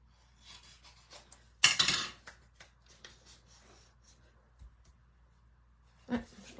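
Paper is cut for a scrapbooking page, a quiet close snip and rustle with one louder crisp cutting stroke, a few soft handling sounds around it and another short snip near the end.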